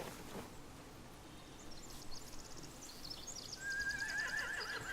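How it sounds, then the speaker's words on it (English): Horses whinny in a zombie-survival video game scene, with a shrill neigh rising near the end over soft background ambience, faint hoof clops and distant bird calls, with no voices. "They have horses."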